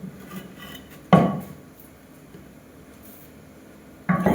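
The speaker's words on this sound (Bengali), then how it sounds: "শুধু তোমাদেরকে দেখানোর জন্য আমি এখানে এত কষ্ট করে বেগুনটাকে কাটছি" A knife chops through a large eggplant on a cluttered surface, giving two hard, close knocks with a gap of quiet handling and faint rustle between them.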